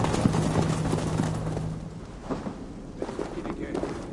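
Heavy footsteps of approaching figures in Assassin's Creed Valhalla, a low rumbling, thudding tread like distant thunder under wind and ambient noise, with voices speaking over it.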